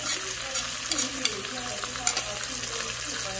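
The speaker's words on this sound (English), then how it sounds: "Nothing better than some fresh onion and garlic burn up in some calipile" Fresh onion and garlic frying in a pan, giving a continuous bright hiss and crackle with a few utensil clicks, while a voice murmurs faintly in the background.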